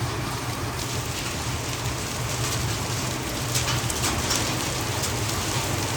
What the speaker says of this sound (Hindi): ओले कोई कोई तो मोटे मोटे आ रहे हैं बिल्कुल